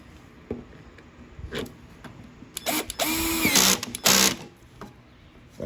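A power driver tightens bolts on a Craftsman lawnmower in a few short whirring bursts with soft clicks between them, the longest spin lasting about a second and close by.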